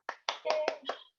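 Scattered hand claps from a few people unmuted on a video call during a virtual art awards ceremony, five or six short uneven bursts, close and moderately loud.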